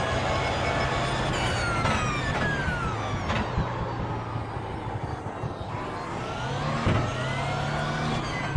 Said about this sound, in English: I love the way that this car sounds.